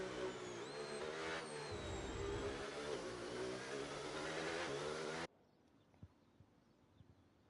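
A McLaren Formula 1 car engine in a racing video game revs loud and steady for about five seconds on a street circuit in Azerbaijan, then cuts off abruptly, leaving faint background noise with a few small clicks.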